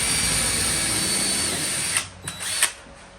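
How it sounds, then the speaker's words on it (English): Power drill pre-drilling screw holes into the very end of a 2x4 for a workbench frame, a steady high whine that winds down into a few short bursts and clicks. "It's imperative that I pre-drill these because these are on the very,"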